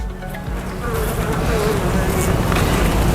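Honey bees buzz densely at an opened top bar hive after a puff of smoke, a loud, close, continuous drone with individual bees passing near.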